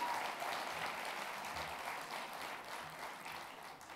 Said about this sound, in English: You can, give them a clap